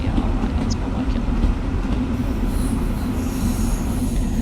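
Train Sim World 2 locomotive wheels slip on the rails, producing a loud, continuous rumble with a dense metallic grinding roar and a high squeal that rises in the second half, with no talking.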